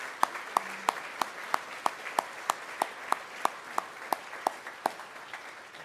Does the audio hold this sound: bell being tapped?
no